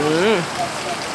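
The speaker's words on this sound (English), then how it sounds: "It's raining." Steady rain patters on surfaces in a town square on an overcast afternoon. The hiss is continuous and close, and someone speaks briefly over it.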